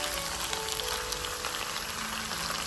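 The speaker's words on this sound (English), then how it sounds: "Now transfer the marinated pork into the pan" Marinated pork for a spicy vindaloo hitting a hot pan, giving a steady, moderately quiet crackling sizzle that holds evenly throughout without any talking.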